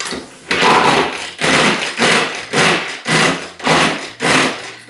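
Food processor pulsing walnuts, hazelnuts and almonds into a coarse crumb, in short loud bursts of roughly half a second each, repeated steadily about seven times up close.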